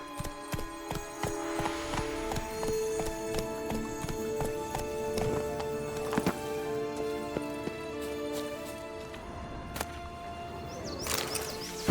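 Horse hooves gallop in The Witcher 3: Blood and Wine, a steady rhythmic clip-clop under a tonal game soundtrack and ambient hum, with a brief louder crack near the end.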